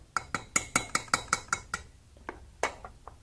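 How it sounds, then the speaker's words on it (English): A utensil taps against a bowl while shrimp fritter batter is mixed with flour, about nine quick evenly spaced clinks, then a few scattered softer knocks, close and clear. "All right, so we'll mix it together."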